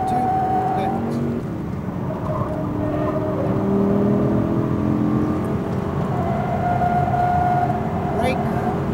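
An Audi R8 V10 RWD on a race track, its engine droning steadily under acceleration with a continuous rising whine, while a driving coach talks over the noise.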